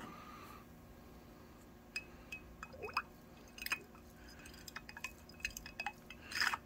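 Gasoline with a few milliliters of fuel additive is stirred in a container, producing faint scattered clinks, drips and liquid swishes over a quiet background.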